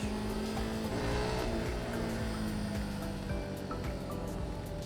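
A vehicle driven on a road in Saigon, Vietnam, its engine revving and accelerating loudly and close throughout, with other traffic passing around it and brief tire noise.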